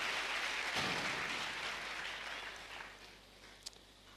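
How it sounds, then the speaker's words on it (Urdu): A church congregation claps together in a dense, sustained burst of applause that gradually thins and fades over a few seconds, with one sharp clap standing out near the end. "زوردار تالیاں مسیح یسوع کے لیے"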